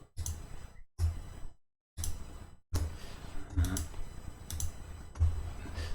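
A computer keyboard clicks in short, close bursts of typing and shortcut presses, several clusters of rapid keystrokes separated by brief silences.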